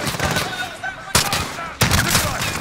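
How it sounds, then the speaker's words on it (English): Gunfire from the video game Modern Warfare, with sharp, loud shots cracking out at intervals over a dense, noisy battle backdrop. "The gunshot."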